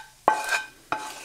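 A spoon stirs warm dressing in a pan for a vegan tomato salad, giving two short scraping clinks about half a second apart, close and fairly clear with no talking.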